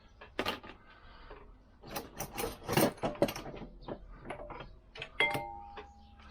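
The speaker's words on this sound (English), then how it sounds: "8mm spanner on there." An 8mm spanner works nuts loose on a Lambretta scooter, giving close, irregular metallic scrapes, ratcheting clicks and light clanks, with brief rustling between them.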